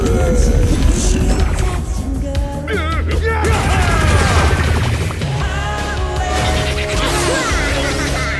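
Plants vs Zombies video game sounds, a loud busy mix of game music, popping shots and crashing impact effects playing continuously with a voice over the top.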